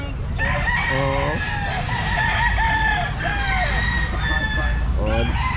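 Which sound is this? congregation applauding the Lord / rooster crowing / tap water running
rooster crowing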